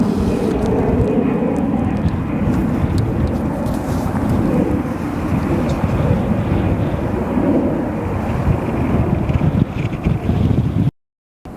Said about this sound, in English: Really good climb on that Embraer.